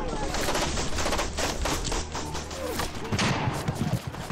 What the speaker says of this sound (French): Ça tire de partout